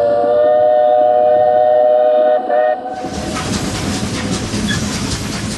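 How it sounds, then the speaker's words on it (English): A steam locomotive sounds a sustained whistle, then chugs and rattles along the tracks with a loud, rhythmic clatter. "an old steam locomotive from Texas."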